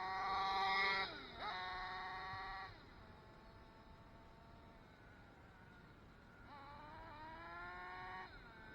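Nitro engine of a RedCat Earthquake 3.5 RC truck revving high, shifting its two-speed transmission with a falling pitch, idling, then winding up and shifting again, close and fairly strong.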